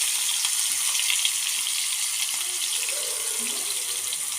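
Onion, tomato and chillies frying in hot oil in a home kitchen, giving a steady, close hiss of sizzling throughout with some faint stirring or water sounds underneath.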